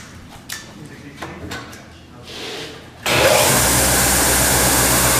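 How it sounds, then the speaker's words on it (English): A belt grinder fitted with a custom grinding belt: a few knocks and handling clatters, then the motor switches on abruptly and runs with a loud, steady whine and rush close by. "And then put it on your belt grinder."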